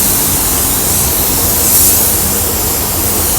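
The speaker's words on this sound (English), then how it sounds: "then spray it like how you normally spray it." Spray gun laying down a second coat of paint on a Chevy Sonic, a steady close hiss of broad noise that runs unbroken for the whole stretch with a slight swell near the middle.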